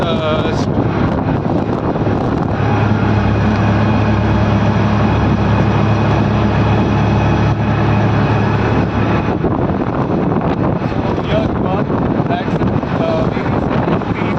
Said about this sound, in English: I'm at the tuk-tuk here and this is a very pleasant ride